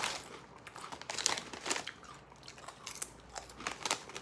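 Lorenz paprika potato chips from Germany crunch and crinkle in close chewing, with bursts of crisp cracking in an irregular rhythm and no talking.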